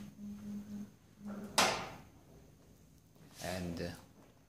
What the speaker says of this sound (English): and close the door.